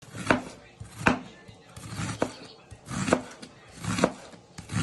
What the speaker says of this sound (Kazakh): жүрегімізді турап алып жатырмын